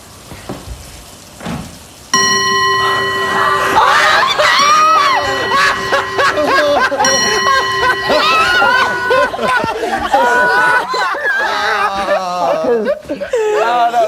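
A television studio crowd screams and cheers, a loud sustained roar that bursts in suddenly and keeps going, with shrill voices and whistle-like tones riding on top and a few words spoken beforehand.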